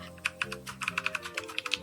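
Fingers type on a compact Royal Kludge RK61 mechanical keyboard, producing a quick, irregular run of crisp, close-up key clicks and clacks at moderate volume.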